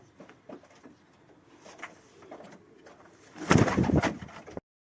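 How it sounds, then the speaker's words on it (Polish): A racing pigeon coos softly inside a loft, with low, faint murmuring calls that swell into a louder burst near the end. "Tak wygląda ten gołąbek."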